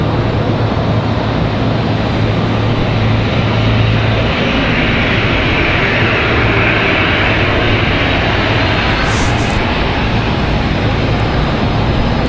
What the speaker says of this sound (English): And there's the American 777 firing engines.